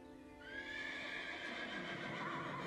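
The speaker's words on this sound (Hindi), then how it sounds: "अचानक एक जंगली घोड़ा बेकाबू हो गया" A wild horse whinnies loudly in a cartoon-style effect, a long rising neigh over steady clip-clopping hooves, close and alone without talk.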